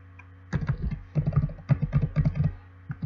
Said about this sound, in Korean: 키보드 방향키 이용하셔도 됩니다.